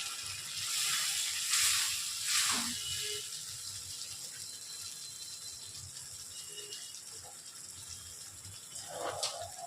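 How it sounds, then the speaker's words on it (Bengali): Water pours into chilli chicken gravy thickened with cornflour, splashing softly for a couple of seconds near the start. A quieter hiss lingers at low level afterward. "আর একটু দিয়ে দিচ্ছি জল।"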